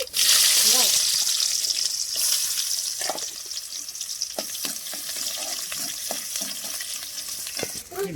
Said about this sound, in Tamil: எண்ணெய் சூடாயிட்டு கடுகு போட்டுக்கலாம்